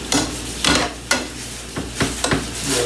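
Garlic fries in butter and olive oil with a soft sizzle under repeated sharp scrapes and taps of a utensil stirring against the pan, close and fairly loud, with no talk.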